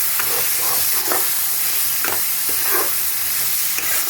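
Fried potatoes tossed into a spice masala in a hot pan for a Bengali fish curry, sizzling loudly and steadily while a spatula scrapes through them every second or so. There is no talking.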